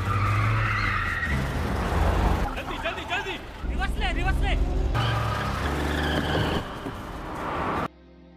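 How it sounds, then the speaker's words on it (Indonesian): Tires skid and screech as a car speeds off in a film chase, with engine noise and background voices mixed throughout the dramatic scene, ending abruptly. "tancap gas dan langsung dikejar oleh timnya Michael"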